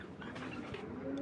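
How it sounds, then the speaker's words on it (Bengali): A pair of pigeons coo softly, faint low murmuring calls against quiet background noise. "তো এখানে দেখতে পাচ্ছেন এক জোড়া কবুতর।"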